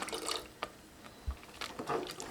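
Coconut milk, the second extract, poured into moong dal payasam simmering on the stove for Onam, giving soft faint liquid splashes and a low plop, with no talk.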